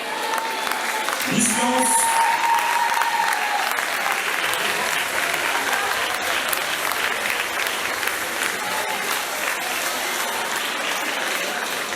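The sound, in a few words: audience applauding students on stage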